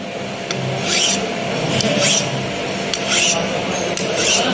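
Metal filing lengthwise on a workpiece clamped in a vise, heard as four slow, evenly spaced rasping strokes over a steady background hum.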